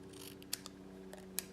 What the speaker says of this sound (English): Yes, you need scissors.